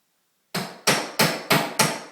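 Five loud, evenly spaced knocks ring out close up as a chamfered parquet floorboard is tapped into place toward the wall, the blows following one another at a steady rhythm after a moment of silence.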